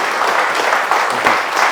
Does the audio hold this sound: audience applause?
yes